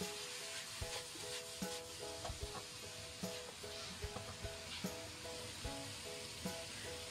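Mixed ingredients stir-fried in a wok, with soft sizzling and repeated quick scrapes and taps of a spatula at a steady rhythm, fairly quiet under faint background music.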